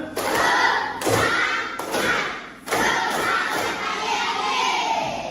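Primary school pupils in a classroom perform a rhythmic spirit clap, with loud, close hand claps and thumps in quick bursts and children chanting and shouting together.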